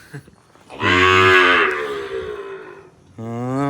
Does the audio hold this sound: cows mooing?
yes